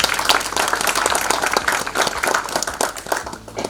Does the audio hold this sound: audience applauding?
yes